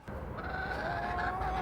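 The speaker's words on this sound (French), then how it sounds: "Et là, donc là, on va voir les poules." Chickens in a henhouse on a residential eco-garden give a few nasal clucking, honk-like calls nearby, fairly clear over a low background rumble.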